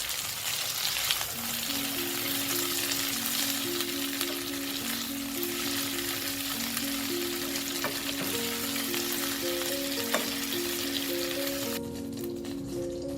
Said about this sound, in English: fry the chicken pieces for too long because they will become hard